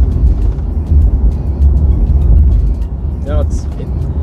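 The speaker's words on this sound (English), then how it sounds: "It sounds very good for a 4-cylinder." Turbocharged four-cylinder engine of a Ford Explorer Timberline, a steady low rumble with road and cabin noise during a drive, constant and moderately loud throughout.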